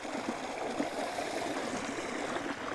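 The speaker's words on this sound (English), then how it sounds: "there is a lot of water coming through here" A small stream of water flows out of the woods along a drainage fed by tile pipe in December, a steady close rushing and trickling wash with no pauses or talking.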